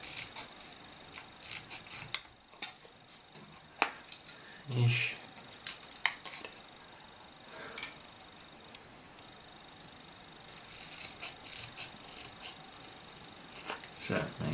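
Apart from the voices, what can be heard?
scissors cutting plastic card with printed sticky label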